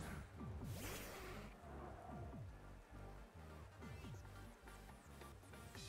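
Rain pattering steadily on a surface with a low rumble of thunder, layered over a looping synthetic soundtrack during a Pokémon Sword and Shield battle.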